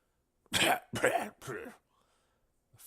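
A fit of three harsh, rasping coughs in quick succession from a man inhaling pipe smoke in a video game, close by, then a pause and a faint start of another.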